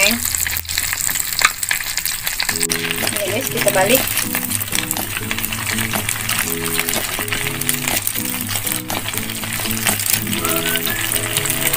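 Chicken sempol sizzles and crackles steadily in hot oil, with stirring and light clinking throughout, while a person talks over the frying.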